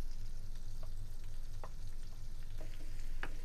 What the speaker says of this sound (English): we're going to saute the onion until it turns nice and transparent